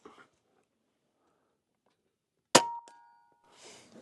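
A single sharp report from an Air Venturi Bullpup II air rifle firing a pellet, a loud crack followed by a brief ringing clang and decay, alone in otherwise near silence.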